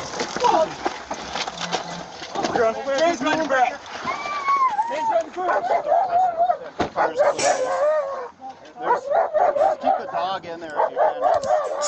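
A dog in a car barks and yips excitedly while people talk over it at a police stop after a car chase, the barking mixed with chaotic voices in a close, noisy scene.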